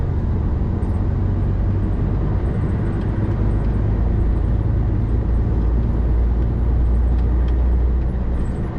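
A truck called the Nemesis drives along, its engine giving a loud, steady low rumble with road noise and a faint high hiss, continuous throughout without talk.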